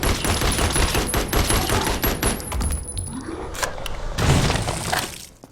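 Rifle gunfire in the horror game Rogue Mansion, a dense run of rapid, harsh cracks and clattering bursts that fade into a quieter tail.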